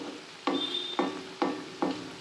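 Homemade crispy cauliflower pakoras fry in hot oil with a steady, close sizzle, broken by four evenly spaced stirring or scraping strokes in the pan, with no talking.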